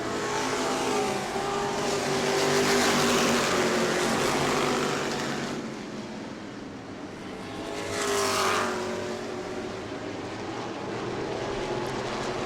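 Race cars roar around the track at New Smyrna on a family fun night, engines droning continuously with swells as cars pass close by, then fading and surging again, loud and without talk.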